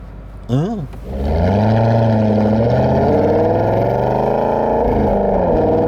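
An Aston Martin Vantage GT8 engine fires up with a sharp rev, then settles into a deep, rumbling idle that fills the rest of the clip.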